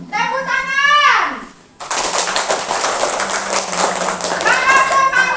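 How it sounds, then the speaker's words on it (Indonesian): Children in a classroom break into dense, sustained hand clapping after a voice, with more young voices rising over the claps near the end. "Tepuk tangan."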